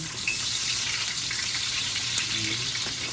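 Chopped onion dropped into hot oil in a pan, a steady close bright sizzle and crackle with faint scraping, continuous and alone.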